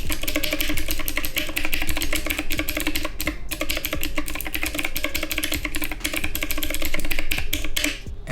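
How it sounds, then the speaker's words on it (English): Fast, clicky typing on a six-key Cherry MX Blue mechanical keyboard, crisp and close, with keystrokes rattling in a continuous stream and a brief pause midway. "Not only is it a 6-key keyboard, it is actually mechanical switches. It uses the Cherry MX Blues."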